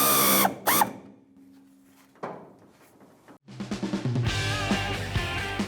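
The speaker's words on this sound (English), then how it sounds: "And the same socket, tighten up the hose." Socket ratchet tightening a fuel hose clamp on a 1992-1996 Ford F-150, with short bursts of clicking and mechanical rasping, a pause, then a denser run of ratcheting close up.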